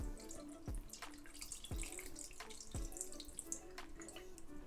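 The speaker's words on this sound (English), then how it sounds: "I'm going to also put some juice." Juice pours into a container while making carrot cake jam, a faint, steady trickle with a few soft glugs spaced about a second apart.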